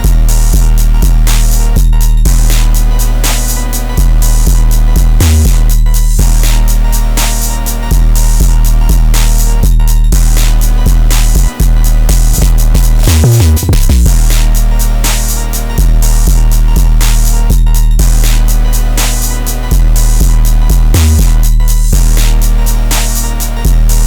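Dense trap beat with booming sustained 808 bass, crisp rapid hi-hats and a dark melody looping continuously at full loudness, with brief dropouts between sections.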